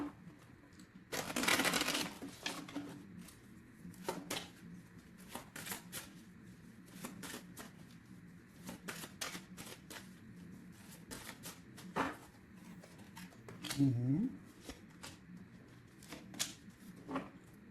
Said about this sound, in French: une dernière petite lame, juste une carte d'aide